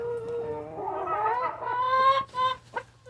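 A rooster and hens in a backyard coop cluck up close, a rising run of throaty calls building into louder squawks with a few short clucks at the end.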